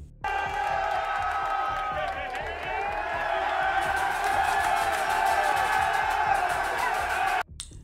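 Inserted crowd cheering and applause effect, a dense roar of whoops, shouts and clapping that holds loud and steady for several seconds before cutting off sharply.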